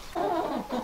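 A chicken clucks close by, a short run of throaty, warbling calls with a brief pause before a final cluck.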